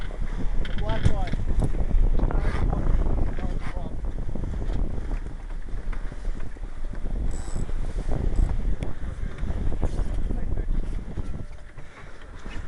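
Strong wind buffets a heeling sailboat under spinnaker, a steady broadband roar with gusty surges and creaking rigging, while crew voices break in now and then.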